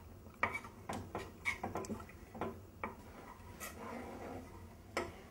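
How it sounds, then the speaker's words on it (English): A spoon scrapes and taps against a saucepan while butter melts and is stirred, a series of faint, irregular metallic clinks over a quiet background. "So you just keep stirring that."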